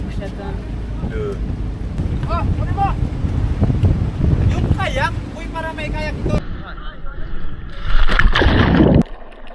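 Gusty coastal wind on an island between Coron and El Nido, Philippines, buffets the microphone with a low rumbling roar under talking voices, rising to a louder blast near the end.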